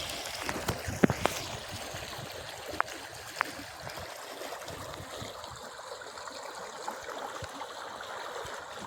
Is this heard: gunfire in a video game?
no